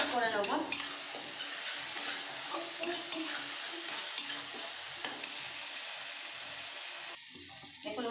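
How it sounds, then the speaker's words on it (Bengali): Spice paste is stirred into a curry in a pan, with steady sizzling and frying plus scraping stir strokes, close and moderately loud, with occasional faint talk. "এই যে মশলার পেস্টটা দিয়ে ভালো করে মিক্স করে নেব।"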